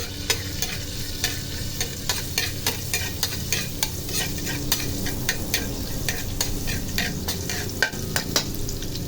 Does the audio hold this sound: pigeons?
no